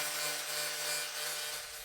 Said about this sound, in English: use a sander to sand down the carbon until the carbon is rough